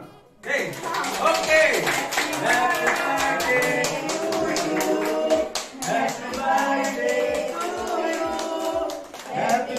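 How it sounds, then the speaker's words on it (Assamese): People at a New Year's family gathering in a home in Jorhat, Assam clap their hands in quick, sharp rhythmic bursts while voices talk and call out over them throughout. "যিমানখিনি আছে চবে যাতে হাত তালি"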